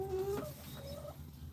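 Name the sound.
Light Brahma hen clucking in nesting box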